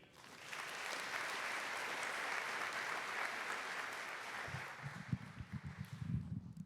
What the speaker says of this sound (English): I'm sure you applaud.